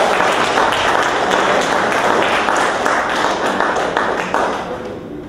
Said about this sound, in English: I want you to join me in giving her a tremendous round of applause.